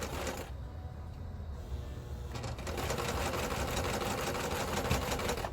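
A sewing machine stitching while it winds a bobbin, a steady fast mechanical whir and patter that grows denser and louder partway through, close by with no voices.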